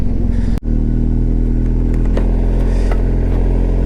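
Motorcycle with heated grips riding a high mountain road near Chicham Bridge in Spiti Valley, a steady engine drone throughout with a brief sharp dropout early on and light clatter.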